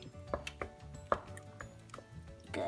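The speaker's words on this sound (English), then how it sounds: "And now time to stir. We want to mix it all up together." A spoon stirs homemade chili in a pot, making a few irregular scraping knocks and clinks against the metal, close and fairly quiet, with no talking.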